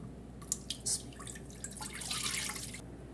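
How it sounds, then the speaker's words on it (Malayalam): Measured milk pours into a bowl during pudding preparation, giving a short, close run of drips and splashes that builds into a steadier stream before it stops. "അത് ഞാൻ പാത്രത്തിലേക്ക് ഒഴിക്കാം."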